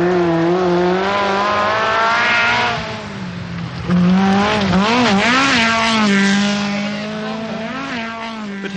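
The little Skoda of Hagland, a rally car at the 1985 British Rally, roars past close by, engine revving hard with rising and falling pitch through gear changes, loud and alone.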